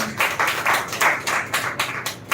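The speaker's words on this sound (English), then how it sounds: "So once again, clap for him." An audience claps steadily for a speaker at an English speech competition, a dense run of applause without talk.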